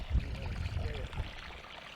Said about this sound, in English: he's just letting the water run, since when the pump stops, we lose prime